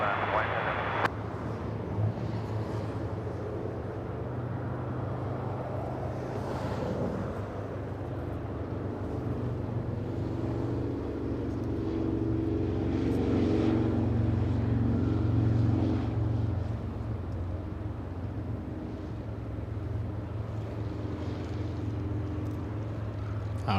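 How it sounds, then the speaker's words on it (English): An Airbus A380 airliner rolling at LAX gives a steady low engine rumble and roar, heard from a distance under ongoing talk. "there goes the A380"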